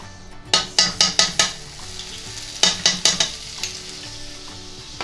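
Butter melting in a hot pan, a low steady sizzle broken by two quick runs of sharp metallic taps as a utensil strikes the pan, close and clear with no speech.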